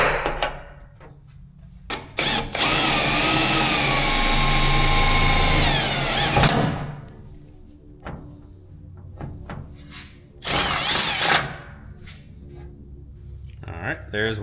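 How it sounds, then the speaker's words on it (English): A power drill bores through the hood of a Dodge Challenger to fit a hood pin, one loud sustained whine of about four seconds, then a second shorter burst later, with quieter handling noises between. "Let's drill."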